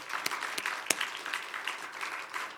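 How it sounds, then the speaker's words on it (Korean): Church congregation clapping during a Korean worship service at Onnuri Church, a short burst of brisk, scattered applause from a crowd, fairly quiet and without speech. "우리 하나님 앞에 한번 영광의 박수를 한번 드리겠습니다."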